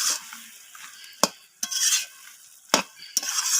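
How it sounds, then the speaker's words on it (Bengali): A spoon stirs fish-head and cabbage curry with fresh coriander and green chillies in a pan, making a few sharp scraping strokes between soft, continuous sizzling and shuffling, close and clear with no voices. "তো এবার আমি সমস্ত কিছু আরও একবার নাড়াচাড়া করে মিশিয়ে নিচ্ছি"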